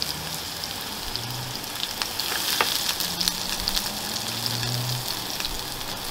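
Summer squash searing in piping hot oil, giving a dense, continuous crackling sizzle with scattered sharper pops and a few faint clinks, steady and close throughout.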